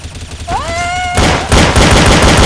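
Loud, close gunfire in the video game Counter-Strike: Source, bursts of shots that turn into a continuous rattle after a brief rising tone.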